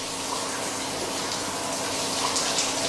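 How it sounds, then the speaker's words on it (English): Running water rinses a silver-plated foil used in vinyl record production, a steady broadband rush of flowing and splashing water that holds even and close throughout, with no talking. "The residues on the back are removed with a sponge before the foil is rinsed again."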